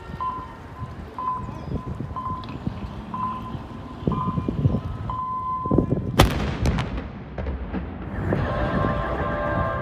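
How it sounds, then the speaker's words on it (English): A daily noon cannon firing in Vladivostok booms out as one sharp, loud blast over crowd murmur and a repeating tone, followed by ringing echoes and ongoing background noise. "gaze at the firing of the cannon"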